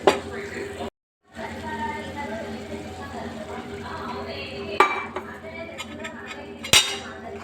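A curd mixture stirred into cooked tomato curry in a metal pan, with a spoon clinking and scraping against the pan throughout, steady and close, broken by a short silence and a few sharper knocks while someone talks.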